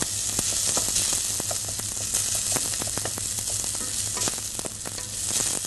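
Steady crackling sizzle of vegetables frying in a hot pan for a veggie chilli, with scattered sharper pops and occasional stirring scrapes throughout.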